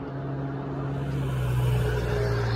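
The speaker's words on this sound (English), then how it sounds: "there's a lot of traffic on this road" Traffic on a busy road, a steady engine drone with a low tonal hum that swells slightly midway as a car passes nearby, no voices.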